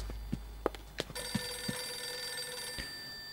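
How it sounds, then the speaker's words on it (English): Telephone ringing in the Eternal Darkness video game, a fairly faint steady electronic ring with footstep-like knocks before and during it. "Phone's ringing over here."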